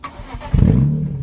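BMW M3 fitted with a Supersprint exhaust cranks and fires up, a loud low rumble surging in after a brief quiet start and holding at a steady idle close by.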